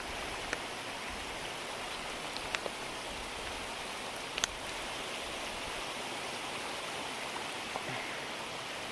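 A stream along the Loyalsock Trail flows steadily nearby, a continuous broad wash of running water with occasional small splashes and no voices.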